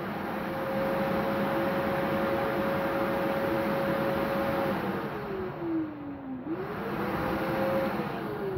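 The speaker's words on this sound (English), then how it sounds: "So here comes the Dyson DC-17 in 3, 2," A refurbished Dyson DC-17 vacuum cleaner runs steadily, a loud continuous whoosh with a sustained motor whine that holds, dips briefly in pitch, then recovers, close by.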